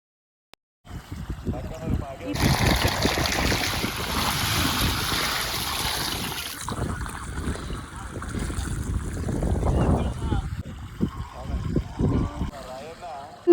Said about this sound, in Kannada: ನೋಡ್ರಿ, ನೀರು ಬರಾತ್ತಿ.